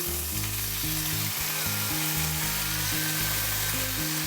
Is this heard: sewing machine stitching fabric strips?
no